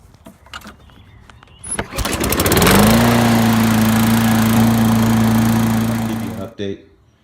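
A 2005 Toro lawn mower with a Tecumseh engine is pulled over, catches almost at once and settles into a loud, steady idle close by for several seconds before cutting off abruptly near the end.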